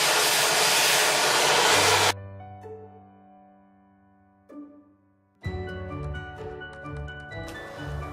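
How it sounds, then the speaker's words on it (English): A hair dryer blows with a loud, steady whoosh for about two seconds, then cuts off; a quiet hum follows before the blowing roars back on. "they use the cool feature on the blow dryer"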